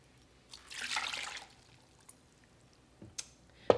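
Water poured into a slow cooker over frozen chicken breasts, a soft brief splash and trickle followed by a few quiet drips and small knocks, faint and close.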